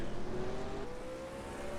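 Late model race car engines lapping a quarter-mile oval at Atlanta, a steady distant drone with a slowly rising pitch as the cars run, fairly faint and continuous throughout.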